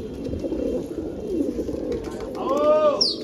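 A flock of pigeons coos in a steady, close, low throbbing murmur, with someone speaking briefly toward the end over the birds.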